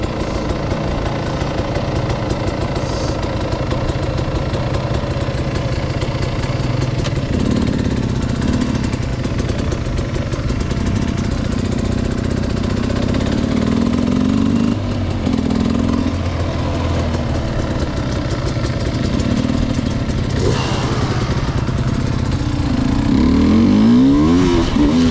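A close, loud engine runs steadily, its pitch rising and falling in several revs, with the strongest climb near the end.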